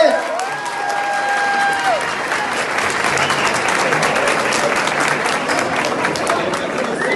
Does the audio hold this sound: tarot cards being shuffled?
no